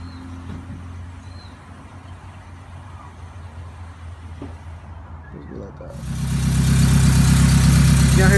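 A Honda Integra with a B20 VTEC engine idles with a low steady hum under quiet background noise. After about six seconds it suddenly grows much louder and fuller, as though heard from close by or through open space.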